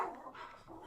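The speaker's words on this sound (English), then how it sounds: "my dogs are barking." A dog gives a single short bark, muffled and at moderate distance, heard indoors with nothing else around it.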